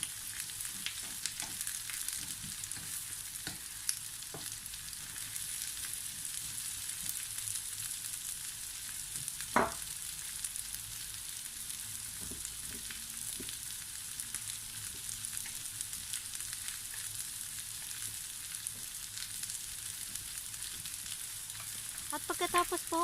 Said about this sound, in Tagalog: ilalagay na natin ngayon ang ating ampalaya. At saka ituloy po natin ang ating paggisa